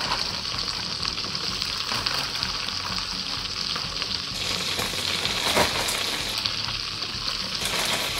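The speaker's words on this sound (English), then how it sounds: "we're just going to place them right in that hot butter" Flour-dredged beef pieces fry in hot butter for a beef stew, giving a steady, close, loud sizzle with faint crackles and popping throughout, no voices.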